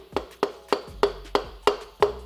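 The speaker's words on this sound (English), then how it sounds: "Take it, press it down in there, tap it lightly." A piston is lightly tapped down into an engine block during rotating-assembly installation: seven evenly spaced, sharp, close knocks about a third of a second apart, with nothing else heard.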